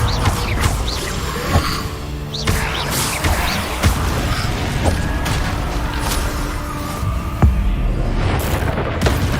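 Fiery blasts and crashing impacts from an Incendio spell in a Harry Potter video game, loud booming bursts repeating over a dense rumbling bed of game sound.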